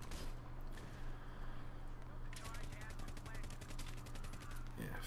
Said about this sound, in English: Just keep firing, you'll eventually hit somebody.